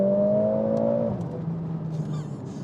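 A Mercedes A45S with a 2-litre engine revs steadily with a strong tone, then the pitch drops as it settles, alone and fairly loud.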